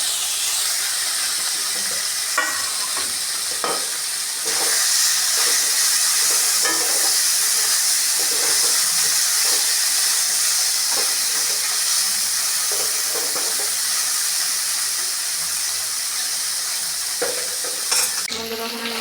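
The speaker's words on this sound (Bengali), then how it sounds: "এখন আমি চাপিলা মাছগুলো ভেজে নেব।" Chapila fish fry in a pan with a loud, steady sizzle that runs throughout, broken by frequent clicks and scrapes of stirring.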